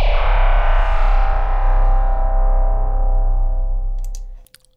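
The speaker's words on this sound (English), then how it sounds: "So you can see that I added a reverb here. I just wanted to have a bit more of a reverb tail." A designed synth sound run through the KHS Convolver plugin with added reverb swells loudly, then fades in a long reverb tail that cuts off near the end, followed by a few soft clicks.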